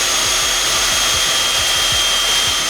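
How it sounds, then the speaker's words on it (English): A Ryobi 18V portable hand vacuum runs continuously on its own, a steady loud whine with a bright high tone and a low pulsing hum. "We're getting close to the 15-minute mark and the vacuum is still running."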